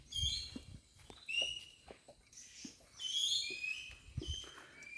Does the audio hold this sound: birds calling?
yes